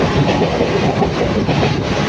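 A train at a station gives a loud, continuous rumbling roar of rail cars up close, with no voices over it.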